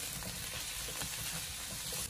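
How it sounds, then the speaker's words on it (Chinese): Potato pieces pan-frying in oil in a wok that is gently shaken make a steady, fairly quiet sizzle, with soft stirring shuffles and no voices. "在煎土豆的过程中，我们轻轻地晃动锅身，让里面每一块土豆都可以均匀的受热成熟。"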